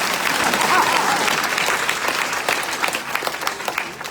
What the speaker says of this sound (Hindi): इसके लिए भी ताली बजाना